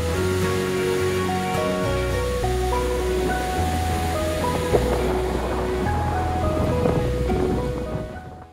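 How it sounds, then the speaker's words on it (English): Turquoise ocean waves crash onto a golden beach shoreline, a loud, continuous roar of surf that stays steady throughout, with a faint tonal hum layered over the wash of water. "with turquoise waves crashing into the golden shoreline"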